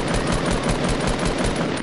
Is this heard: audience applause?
no